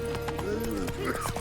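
Horse hooves clip-clop at a trot in The Witcher 3 while a voice talks over them in a short, close burst.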